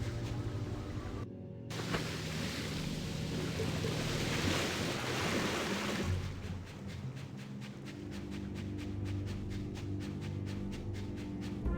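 Wind and waves in a game scene roll as a broad, steady wash of surf and gusting air, moderately loud and unbroken, with no voices.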